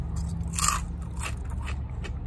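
Cape Cod sea salt and vinegar potato chips are bitten and chewed close up, with a sharp crunch followed by several softer crackling chews over a low steady background hum.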